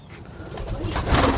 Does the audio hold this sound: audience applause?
no